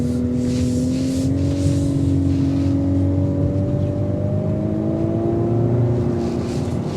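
A 2024 Volkswagen Atlas Cross Sport with a Tiptronic automatic, in sport mode, pulls steadily under acceleration, its engine drone rising slowly in pitch through a constant road and cabin rumble.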